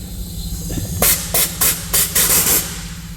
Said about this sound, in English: Drain the compressor, drain that spare tank.